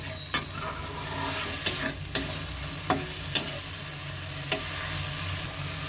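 Tomatoes sizzle steadily in a pan of katla fish curry while a utensil stirs, scraping the pan with occasional sharp clinks over a constant frying hiss.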